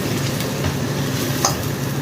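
Spices with coriander powder being stirred in a hot pan for bagara rice, a dense, continuous hissing sizzle with faint scraping, steady and close throughout.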